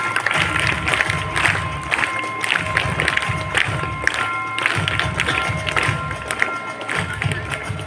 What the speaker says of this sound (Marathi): सर्वांनी या विद्यार्थ्याचं जोरदार टाळ्या वाजवायचे